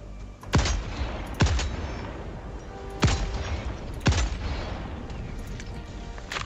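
Sniper rifle fire in the video game Helldivers 2: four sharp, booming shots spaced about a second apart, each ringing out with a decaying tail over steady background game noise.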